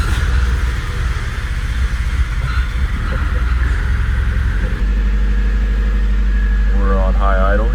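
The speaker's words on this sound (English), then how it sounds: "We're on high idle here." A 38-year-old car's engine runs at a steady high idle, a loud continuous rumble close by that smooths into an even drone, with a faint whine overhead.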